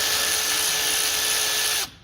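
Power tool fitted with a 10mm deep socket spins off a nut on a VG400 engine, a loud close high-pitched whirring burst lasting about two seconds before cutting off abruptly.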